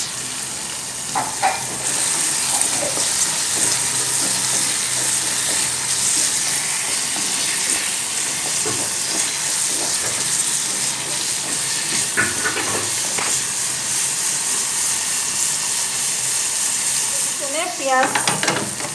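Onions sizzle steadily in a hot pan while being cooked down for a bitter gourd dish, with a dense, continuous hiss and occasional light clinks of stirring close by.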